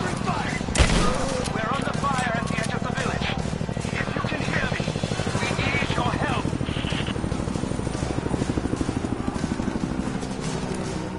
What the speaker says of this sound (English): Heck yeah, I wanted a shotgun.